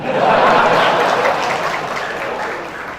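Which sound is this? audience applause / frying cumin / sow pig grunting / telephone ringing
audience applause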